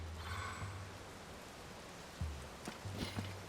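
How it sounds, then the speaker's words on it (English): Soft, steady rain patters in the background with a low synthetic hum and a few faint chimes, quiet and continuous with no voices, in the video game Zelda: Tears of the Kingdom. "Oh, hey, look at that. It's raining."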